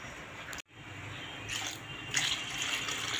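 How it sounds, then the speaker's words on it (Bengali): Split peas are rinsed with water in a kitchen, with tap water running and splashing close by in a steady stream after a brief break, and softer sloshing swells in between. "এই যে সব কেটে জলে ধুয়ে নিচ্ছি।"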